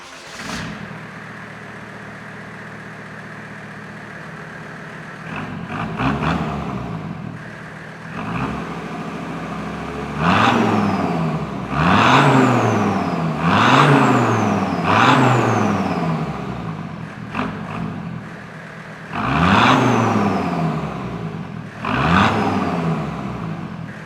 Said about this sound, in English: before I get into the side exit exhaust and I put that on, I feel like it warrants a sound check